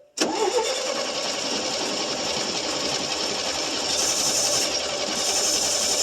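A 1966 GMC inline six fires up after sitting for at least two years, catching abruptly and then running loudly and steadily, close by, with a slightly rough mechanical clatter throughout.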